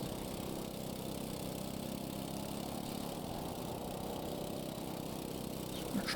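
A kart engine in the racing game Karting4fun drones steadily and close, a buzzy mid-pitched hum that holds nearly unchanged throughout, with no speech over it.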